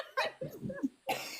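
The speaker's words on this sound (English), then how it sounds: "And still sniffing and coughing." A single person coughs in a short burst, a couple of rough, close hacks followed by another cough after a brief pause.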